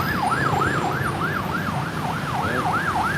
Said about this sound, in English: Well, got an ambulance coming.